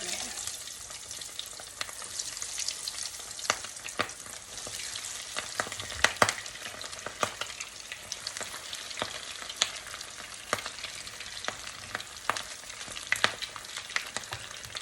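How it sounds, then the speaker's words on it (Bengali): Half-cooked chicken lollipops fry in oil over medium heat with a steady close sizzle, scattered crackles and sharp pops throughout. "যেগুলি আমি ভাজতে চলে আসলাম আঁচটা আপনারা মিডিয়াম রাখবেন"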